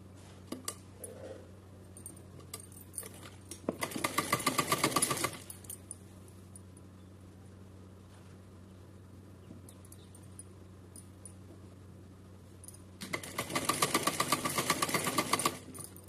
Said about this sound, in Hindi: इसी के ऊपर हमें लेस रख के सिलाई लगानी है